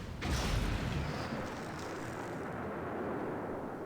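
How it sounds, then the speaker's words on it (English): A big explosion in the stealth game Thief goes off with a heavy booming blast up front, then a long rumbling roar and hiss that carries on steadily without fading. "I can't possibly see being able to ghost this mission without someone hearing that explosion."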